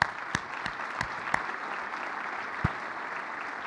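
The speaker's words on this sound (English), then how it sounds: "I think that deserves a round of applause" Audience applause at an annual conference welcome session, a steady wash of clapping with a few sharper claps standing out, moderately distant and fairly soft.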